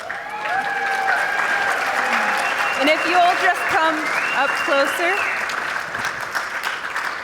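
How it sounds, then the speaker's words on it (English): Sustained applause fills a large convention hall as prize winners are honored, a steady crowd of clapping held over several seconds while an announcer speaks over it through a PA. "let's give them a huge round of applause."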